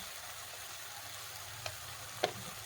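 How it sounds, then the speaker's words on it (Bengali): Masala being sautéed with a splash of water and a pinch of sugar in a pan for shankar fish gamakha, giving a soft, steady sizzle with a couple of faint scraping knocks. "জল দেবো আর মশলাটাকে কষিয়ে নেবো"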